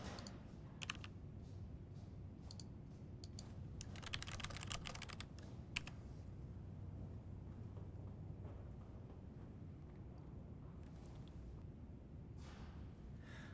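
Someone types a name on a computer keyboard in soft, irregular bursts of key clicks. The taps are faint and close, with pauses between short flurries and no speech.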